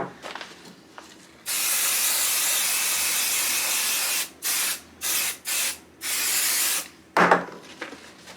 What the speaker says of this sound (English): I am going to go ahead and spray this down